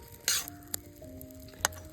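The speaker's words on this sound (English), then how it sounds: "We are frying off some onion, red onions and some garlic." Red onions and garlic frying in a pan over an open campfire at a campsite, a steady soft sizzle with a few sharp clinks of a utensil against the pan, close and alone.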